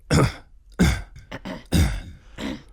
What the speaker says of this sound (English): If you think about how you clear your throat